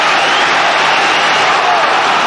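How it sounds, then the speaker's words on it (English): A packed crowd at a Manchester United versus Arsenal football match in 1993/94 roars and applauds a player. The noise is a loud, continuous wash that fills the whole stadium without letting up. "The applause is for Bruce."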